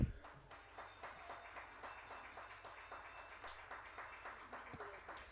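Applause in a hall for a Rose-Hulman Athletic Hall of Fame inductee, many hands clapping faintly and steadily at a distance, with no talk in the clip.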